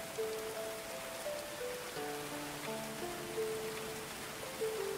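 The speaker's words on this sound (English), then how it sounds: "Outside in the rain." Rain falling steadily in the medieval colony-building video game Going Medieval, a dense, even patter on surfaces with faint tonal game music underneath and no talk.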